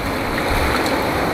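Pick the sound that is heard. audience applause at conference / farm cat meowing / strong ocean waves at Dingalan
strong ocean waves at Dingalan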